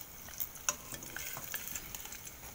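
Slices of luncheon meat (beef loaf) fry in a pan of hot oil, giving a steady close sizzle with faint crackles and a few light utensil clicks, no voices.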